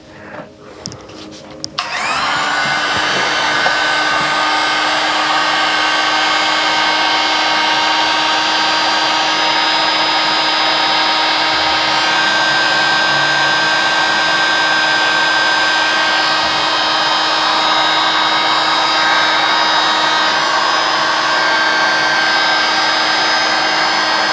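A hair dryer drying a layer of a watercolor galaxy bookmark painting switches on after a brief quiet moment, then runs as a loud, steady whirring hiss that continues unbroken to the end.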